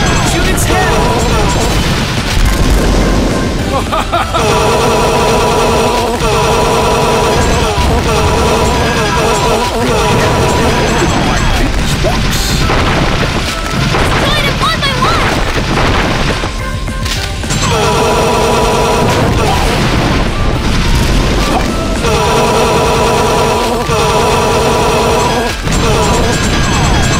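Dense rapid gunfire in the Sega Golden Gun arcade game, loud bursts and crashes packed together almost without pause over game music, with an in-game voice calling out now and then.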